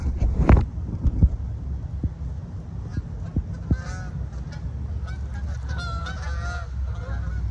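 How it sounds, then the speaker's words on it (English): A flock of geese flies past honking repeatedly, their calls rising and clustering overhead, with some wind buffeting the microphone and a few sharp knocks near the start. "That was so beautiful, of those geese flying."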